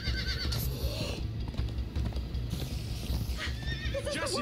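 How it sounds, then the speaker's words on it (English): Horses in the Minecraft Story Mode video game gallop with steady clip-clop hooves and let out several loud whinnies over the running, close and continuous throughout. "Come on, horses!"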